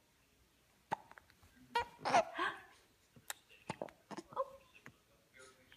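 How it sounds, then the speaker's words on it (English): A six-week-old baby hiccupping, with a few short, sharp hiccups and small burps scattered among soft baby vocal sounds, heard up close alongside a brief adult exclamation. "Got the hiccups with some burps."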